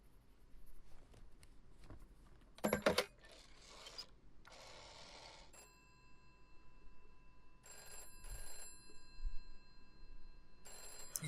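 A telephone rings repeatedly in the police-management video game This Is The Police, with bursts of ringing separated by pauses and some mechanical handling sounds in between, and no talking.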